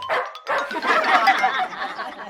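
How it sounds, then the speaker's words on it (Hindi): A pet dog barks in a comic story, a burst of excited bow-wow barking with yips that runs almost continuously, loud and close. "कुत्ता दौड़कर उनकी ओर आता है"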